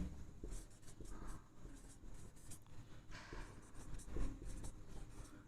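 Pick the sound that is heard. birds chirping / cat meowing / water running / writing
writing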